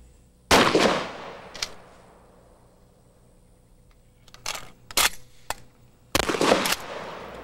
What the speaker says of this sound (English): Now let's look at the firing characteristics of these conventional rounds.